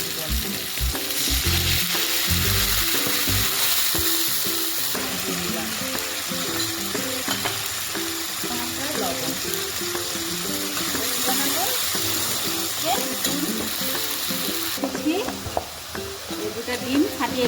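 Ground spice paste of onion, garlic, cumin, coriander and ginger sizzling loudly in a pan as water is poured in, followed by steady stirring and bubbling frying close up, with a voice talking over it.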